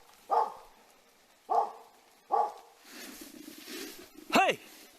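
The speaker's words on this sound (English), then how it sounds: "These Karelian bear dogs are trained to track the bears and drive them away from urban areas." Karelian bear dogs, trained to chase bears out of town, bark in four sharp, loud bursts spaced about a second apart, with a low rumble of activity between the third and fourth barks.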